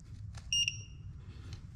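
A spark plug torque tool on a 2017-2024 Alfa Romeo Giulia 2.0 gives a short, clear electronic double beep close by when the plug is tightened enough, heard alone over quiet room tone.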